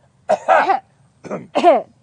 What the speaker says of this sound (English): Get all your coughs out of your system